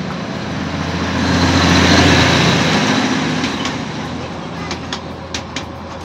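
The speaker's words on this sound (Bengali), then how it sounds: "টয় ট্রেন চলে এসছে, টয় ট্রেন।" A low rumbling Darjeeling toy train draws near, swelling and then easing off, with a few sharp clicks toward the end and people talking nearby.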